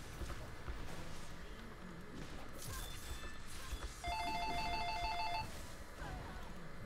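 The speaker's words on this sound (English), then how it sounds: "Phone's going off a whole ton." A mobile phone rings during a League of Legends game session, a short repeating electronic ringtone pattern of pulsed tones sounding mid-clip over game sound effects and background noise, with brief voices nearby.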